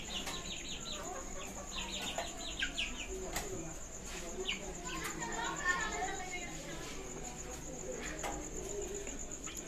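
A hen and roosters kept at a home, with faint clucks coming through steady cricket and insect chirping. Someone talks quietly over the low background.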